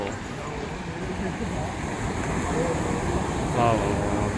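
Barachukki Falls pours with a broad, steady roar of rushing water that swells slightly toward the end, while voices talk over it nearby.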